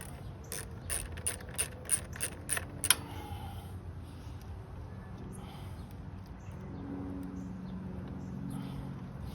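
A socket ratchet loosening the battery terminal bolts on a 1995 Honda Nighthawk 750 motorcycle, a rapid run of about eight crisp clicks up close, then fading into a quiet background hum.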